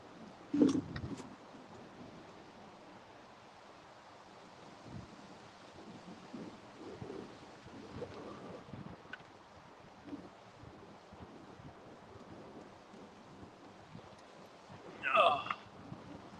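Wind blows across the James River around a fishing boat, giving a low, steady rumble against the microphone with gusty swells and a couple of brief knocks.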